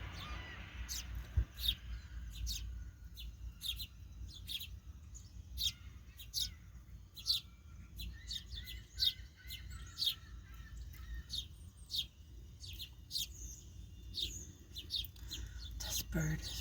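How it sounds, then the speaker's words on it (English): Sparrow eating SpaghettiOs outdoors gives off repeated short, bright chirps scattered through the clip over a low, steady ambient rumble, fairly near and moderately loud. "He's a little sparrow."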